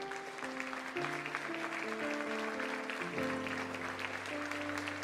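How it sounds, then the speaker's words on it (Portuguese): A church congregation applauds steadily, a dense wash of clapping held under sustained keyboard chords that shift in pitch, the whole scene moderately distant and even in level. "Você pode aplaudir ao Senhor por esta palavra."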